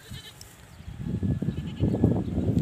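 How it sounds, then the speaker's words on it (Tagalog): Goats bleat in a rough, wavering chorus outdoors, several calls overlapping and growing louder over a few seconds against faint background noise. "Ayun yung kambing nating iba."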